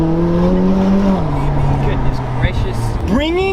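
A McLaren 600LT supercar drives on a city street with a loud engine drone that drops in pitch, then revs up sharply at the end, while people talk over it.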